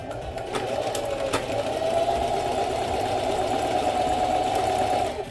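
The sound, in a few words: sewing machine stitching fabric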